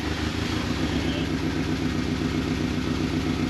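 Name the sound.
1983 turbo coupe driving in second gear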